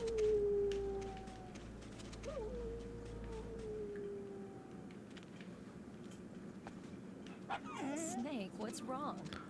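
Dogs in Metal Gear Solid: The Twin Snakes howling, whimpering and yipping, fairly faint and mixed with other game sounds, with a whining yelp rising near the end.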